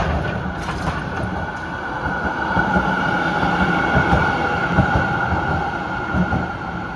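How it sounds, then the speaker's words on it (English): A Route 57 tram in Melbourne, Australia, rumbles steadily and fairly close, with a continuous low roar of wheels on rail and a faint high whine running through it. No one speaks. "The Route 57 tram to West Melbourne."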